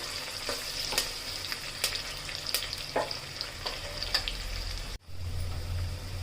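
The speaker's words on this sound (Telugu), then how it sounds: "ఇది మంచిగా ఫ్రై కావాలండి, కొంచెం బ్రౌనిష్గా." Onions, green chilies and curry leaves fry in a pan for a Telangana-style boti dish, a steady close sizzle with occasional sharp crackles and spits, briefly interrupted by a short drop near the end before the frying resumes.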